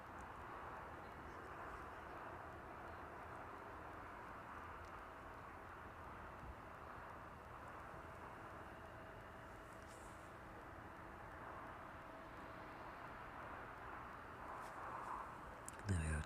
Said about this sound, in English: There we go, touching down onto runway 27.